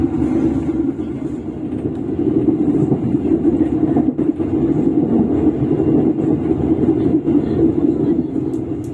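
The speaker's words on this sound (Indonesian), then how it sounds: "Perjalanan kereta api Motis Utara telah sampai di stasiun" Motis Utara train rolling into a station, a continuous heavy rumble of the carriages, loud and steady for the full stretch with no clear voices over it.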